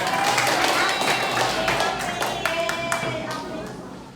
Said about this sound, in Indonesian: Ya udah, coba tepuk tangan buat kita semuanya.